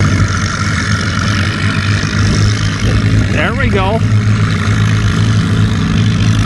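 A pair of International Harvester Super C tractors with chrome stacks plowing a field, their engines droning steadily and loudly throughout, with a person speaking briefly over the running engines.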